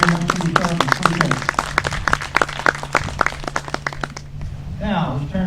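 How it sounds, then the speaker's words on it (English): A small crowd claps for several seconds in a quick, scattered rhythm, then the applause fades and a voice starts talking. "Give them a round of applause"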